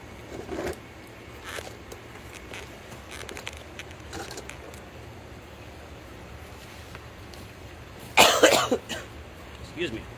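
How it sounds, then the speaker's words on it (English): A person coughs outdoors in a garden, a few scattered short coughs and one louder burst of coughing, against faint wind and background noise. "I still have a cough and post-nasal drip"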